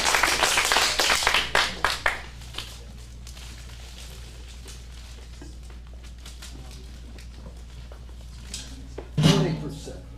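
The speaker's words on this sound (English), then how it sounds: "Let's get a round of applause for the next scene." Brief scattered clapping from a small audience at an adults acting studio script showcase, a few seconds of claps that quickly fade, followed by quiet room tone and a short clatter near the end.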